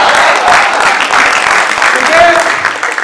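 Audience applause for a poet at a stand-up comedy show, loud, dense clapping filling the whole moment with crowd noise mixed in.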